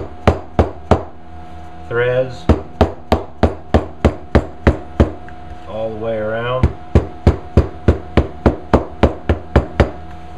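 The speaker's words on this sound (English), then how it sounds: "I'm just going to take this hammer here, since I had it handy, and I'm just going to tap on these" A hammer taps steadily on leather stitching of a handmade holster in a quick, even rhythm of sharp knocks, pausing twice while someone speaks briefly.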